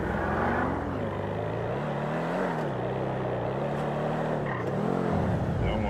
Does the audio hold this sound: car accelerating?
yes